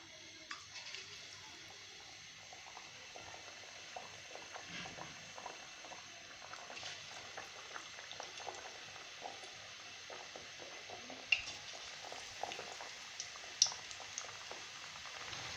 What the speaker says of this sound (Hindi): अब हम इसको बेसन के मसाले में डिप करके और इनको डीप फ्राई करते जाएंगे।